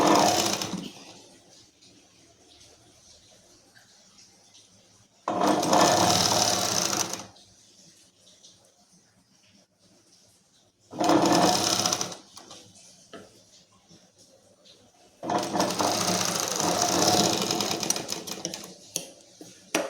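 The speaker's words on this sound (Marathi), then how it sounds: "इथे डबल टिप देऊन घेऊया" A sewing machine stitches outer fabric and lining together in three bursts of steady whirring, each lasting one to two seconds, separated by quiet pauses with faint handling noise.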